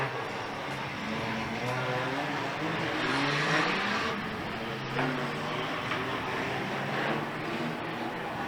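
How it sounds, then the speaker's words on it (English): A field of eighteen race cars at the start of a 52-lap race, engines droning and rising together in a broad, sustained roar heard from within the pack, fairly loud with no speech. "18 cars about to go for 52 grueling laps"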